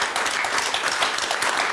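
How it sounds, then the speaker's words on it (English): Studio audience applauding steadily during a televised political debate panel, dense clapping sustained throughout at moderate loudness with no talk over it. "that's getting a round of applause"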